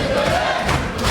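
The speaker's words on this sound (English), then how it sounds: "And McCarthy's crowd has come alive once more" Crowd cheering and roaring steadily at a WKO kickboxing title fight, a dense, loud wash of voices that swells slightly near the end.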